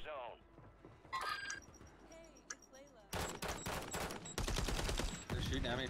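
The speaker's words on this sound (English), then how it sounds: "They're shooting at me from there, dude." Video game gunfire: loud, rapid automatic bursts with several sharp volleys in the second half, alongside a few beeps and clinks, with people talking over it.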